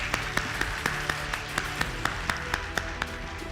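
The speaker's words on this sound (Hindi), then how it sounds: "तो एक बार जोरदार तालियां आप अपने लिए बजा दीजिए।" Enthusiastic audience applause at a Modicare success-story event, a rhythmic group clapping with sharp, evenly spaced claps over a dense crowd wash.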